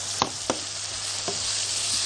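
Minced meat frying in ghee in a pan, a steady low sizzle with a couple of sharp stirring knocks near the start, no voices.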